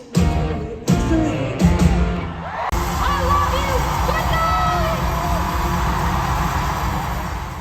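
An excited crowd at a concert in Amsterdam cheers and screams, loud and close, with a few sharp bursts early on before a sustained roar of whoops and yelling voices fills the hall.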